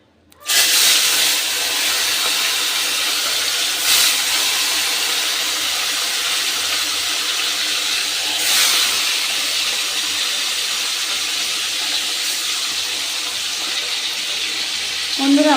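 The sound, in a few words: frying bhola fish in hot oil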